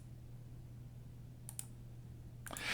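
A few computer mouse clicks, a quick close pair and then a louder click near the end, set against a quiet steady electrical hum.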